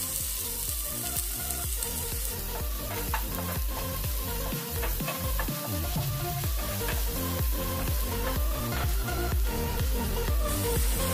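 Onion hits a hot pan for pickled bamboo shoot and sizzles loudly and continuously, a dense crackling fry with stirring scrapes and clatter running throughout.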